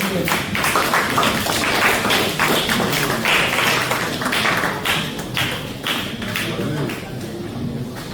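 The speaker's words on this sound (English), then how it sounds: "A round of applause." An audience at a university IT final-year project defense gives sustained, loud applause as a student group walks on stage, with voices mixed in under the clapping.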